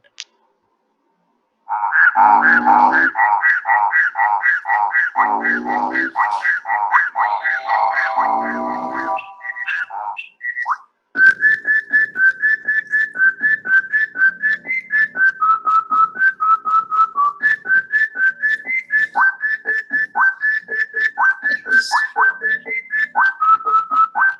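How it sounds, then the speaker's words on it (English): Music built from the calls of different frogs of the Western Ghats, with bursts of rapid chirping croaks followed by a long run of repeated whistled tonal notes in a steady rhythm, clear and close. "someone used these sounds from different frogs and made a voice, made a music out of it"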